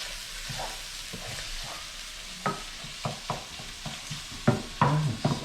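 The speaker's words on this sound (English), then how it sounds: "So we're stirring it in and make like a little quick omelette" Eggs and mushrooms frying together in a pan as a quick omelette, with a steady soft sizzle under scattered scraping stir strokes from a utensil, some sharper clinks near the end.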